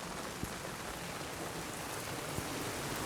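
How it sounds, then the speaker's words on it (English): Rain falls steadily over a suburban food-growing yard, a dense and even patter on surrounding surfaces with a couple of sharper drops standing out, soft and constant throughout. "Rain."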